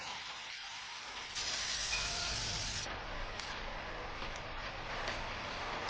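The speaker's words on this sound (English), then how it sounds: "Spray epoxy primer." Epoxy primer sprayed onto the body of a 1969 Ferrari Dino 246 GT under restoration, a steady airy spray hiss that strengthens partway through and holds at moderate level, with no talk.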